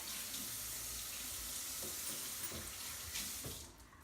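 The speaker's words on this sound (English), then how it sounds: "We're gonna wash our hands here a little bit." Tap water runs steadily into a kitchen sink while hands are washed, a continuous close hiss and splash with small sloshing shifts, easing off in the last half second.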